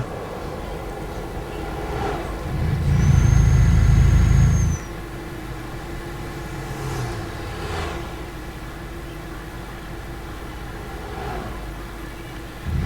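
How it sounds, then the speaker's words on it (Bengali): A train crawls slowly across a rail bridge in a bus simulator game set on a Bogura road map in Bangladesh. A heavy, low rumble swells loudly for about two seconds, then drops to a faint hum, with a thin high whine and scattered softer knocks. "রেল লাইন ট্রেন যায় আস্তে আস্তে"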